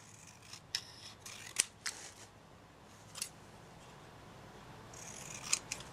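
Scissors trimming a paper banner: a few sharp, isolated snips spaced irregularly, close and fairly quiet, over a low steady background hum with no talking.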